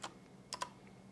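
Number keys tapped on a computer keyboard while entering notes in Dorico notation software: one click at the start, then two close, sharp clicks near the middle, against a quiet background hum.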